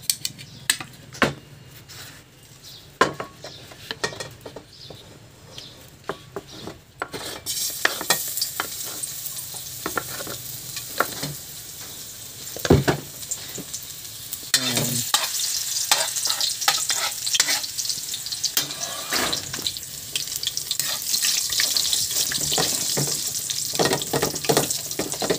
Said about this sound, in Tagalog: mainit na yung mantika natin. Lalagyan na natin yung bawang.